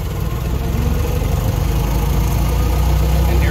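Ford Model T engine running steadily, a low rumbling idle with a constant throbbing beat, close and loud throughout with no speech.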